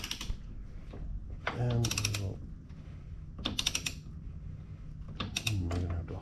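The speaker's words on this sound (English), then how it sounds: "All right, get the torque wrench on there." A torque wrench tightens the rear axle nut on a DirtyBike Ultra Bee electric dirt bike, producing short bursts of ratcheting clicks in three clusters over low shop noise, with a voice briefly audible.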